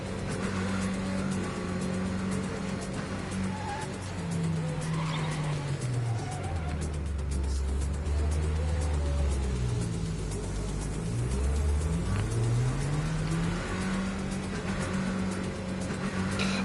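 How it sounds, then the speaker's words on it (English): Cars drive and skid in the video game NTE, with a steady engine hum and repeated swooping tire-skid tones that rise and fall near the middle, loud and continuous throughout. "The only problem is that these cars that you take from the civilians, they're not very adequate."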